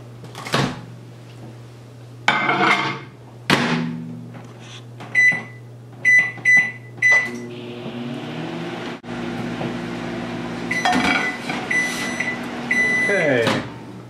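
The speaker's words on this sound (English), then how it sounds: "it goes in the microwave for about 2 minutes." A microwave oven hums steadily in the background while heating a flaxseed wrap for about two minutes, as a door clunks, clicks and short beeps sound, with bursts of activity near the end.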